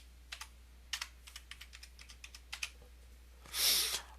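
Steady typing on a computer keyboard while filling in name, username and password fields during an Ubuntu-based Linux install, a run of close, crisp key clicks ending in a longer burst of noise, no talking.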